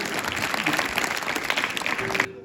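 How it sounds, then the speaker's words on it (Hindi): Dense, steady applause from an audience at a farewell ceremony honoring a political science lecturer, filling the hall evenly before cutting off abruptly near the end. "एक बार तालियों के साथ स्वागत अभिनंदन सर का भी"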